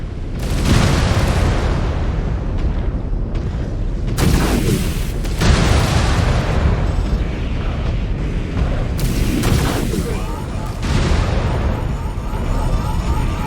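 Incoming missiles hit in MechWarrior 5: Clans, setting off a series of heavy booming explosions with rumbling tails, loud and close, repeating every few seconds.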